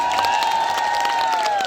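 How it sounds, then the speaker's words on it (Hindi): A crowd at a stage event at the Borani Kauthik fair in Uttarakhand raises a steady, loud cheer for Ved ji, the sustained whoop holding throughout the short moment. "देखो वेद जी के लिए भी जोरदार तालियां होनी चाहिए।"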